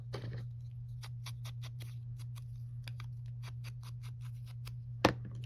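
Scissors cutting paper for an envelope journal page, a series of small, evenly spaced snips and ticks over a steady low electrical hum, ending with one sharper, louder cut, no talking.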